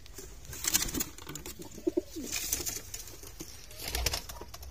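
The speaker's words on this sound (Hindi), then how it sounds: "ये कबूतर है, कबूतर अब नीचे आ रहे" Pigeons cooing nearby as they come down, with a short low coo in the middle amid rustling, scraping and brief wing-like flutters.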